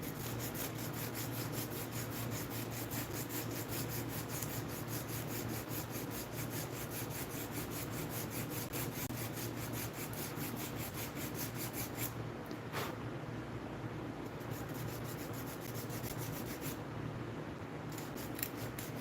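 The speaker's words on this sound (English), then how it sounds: "These two woods take the sand completely different." Steady scraping and rasping from sanding and beveling two different kinds of wood, a continuous close abrasive rub with a constant low hum underneath and no speech.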